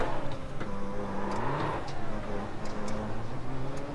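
Race cars in a video game roar past one after another, engine tones rising and falling as they sweep by in a steady loud stream, with a faint voice now and then underneath.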